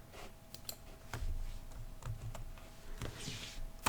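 Fingers type on a computer keyboard in irregular quick bursts of clicks, close and fairly quiet, with short pauses between keystrokes and no talking.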